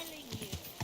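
A horse's hooves clop in the video game Kingdom Come: Deliverance 2, giving three soft, quiet thuds in an uneven rhythm beneath a voice.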